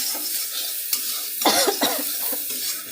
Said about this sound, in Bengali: আর একটা কড়াইতে শাক ভাজছি